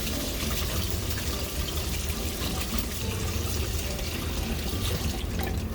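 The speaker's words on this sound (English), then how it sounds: "I have 1 cup of rice. And then I am just going to take some cold water and I'm going to rinse it." Cold water runs steadily from a tap over one cup of rice in a strainer, a continuous splashing, rushing wash close by for the whole stretch with no talking.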